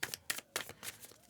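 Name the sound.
tarot cards being shuffled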